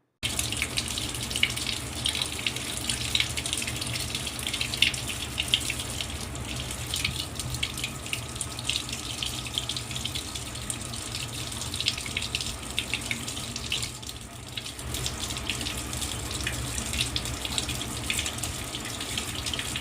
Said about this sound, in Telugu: మామిడి పండ్లు 2-3 సార్లు నీట్గా కడుక్కోవాలి.